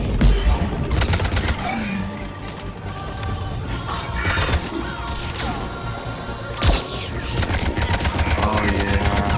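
Dense gunfire in a Mass Effect Legendary Edition battle, a continuous clatter of rapid shots with loud crashing impacts throughout, mixed with faint voices.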